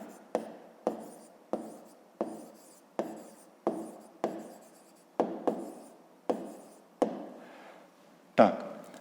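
Pencil strokes on paper while working a fifth-grade math exercise, heard as a steady series of about a dozen short scratching marks in a regular rhythm, close and fairly quiet, with a slightly louder rub near the end.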